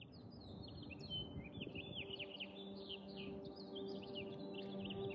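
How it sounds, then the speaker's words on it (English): Several birds sing and chirp outdoors in early spring before the trees leaf out, with rapid high twittering phrases repeating over a soft background hum. "as I long for leaves on the trees, I listen to the birds."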